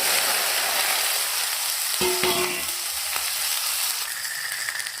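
Okra drops into hot mustard oil already crackling with cumin, mustard seeds and asafoetida, giving a loud, steady close-up sizzle with a few brief clinks of a utensil against the pan.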